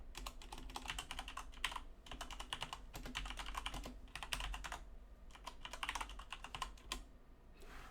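Someone types on a computer keyboard in quick bursts of clicking keystrokes separated by short pauses, quiet and close, with no voices.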